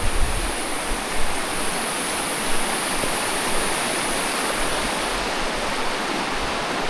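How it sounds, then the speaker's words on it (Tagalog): A big river rushes past steadily along a rough horse trail, a broad continuous wash of flowing water, close and loud with no break. "Malaking ilog pala ito dito."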